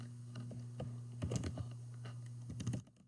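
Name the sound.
typing a quiz question on a computer keyboard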